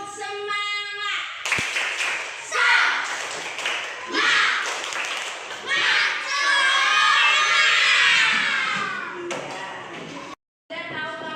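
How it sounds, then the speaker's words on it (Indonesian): Indonesian schoolchildren perform the "tepuk semangat" spirit clap chant in a classroom, with rhythmic group claps, shouted chanting and an adult voice leading, loud and lively, ending with a brief gap. "Yuk kita tepuk semangat dulu."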